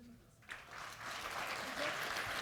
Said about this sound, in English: And now another quick round of applause for Brent.